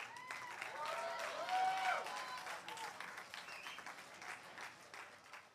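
A commencement crowd applauds USC graduates: distant, sustained clapping with scattered cheers and a few whistles, swelling early and then gradually tapering off.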